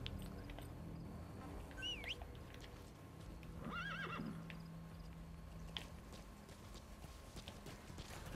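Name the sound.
horse neighing, Metal Gear Solid V video game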